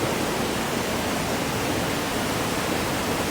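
Hogenakkal river water rushing over the falls in a heavy flow, a loud, steady, dense roar that fills the whole clip without pause or voices.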